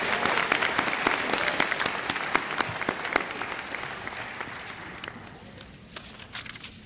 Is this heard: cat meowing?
no